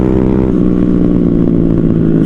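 Honda Sonic and Yamaha R15 motorcycles rev hard at full throttle, a loud steady engine drone with layered harmonics holding close and constant throughout.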